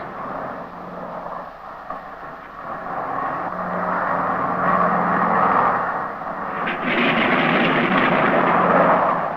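Piston engines of a Douglas DC-6 airliner run in a steady, broad drone that swells louder partway through and holds, continuous and close, with no voices.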